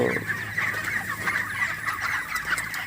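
A flock of 28-day-old broiler chickens clucking and murmuring steadily at close range on a farm, with a few rough, raspy, congested wheezing calls from birds with colds mixed in.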